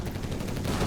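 Brief burst of dense gunfire in Company of Heroes 3 as a Crusader tank fires on a Panzer Grenadier squad: an unbroken crackle of distant rifle and machine-gun shots at even volume.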